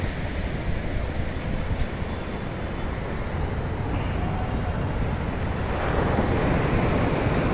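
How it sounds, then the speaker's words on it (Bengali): Big sea waves break on the shore at Puri beach early in the morning, a broad continuous roar mixed with wind buffeting the microphone that swells louder toward the end, with no voices heard. "বড় বড় ঢেউ এসে আসছে পড়ছে"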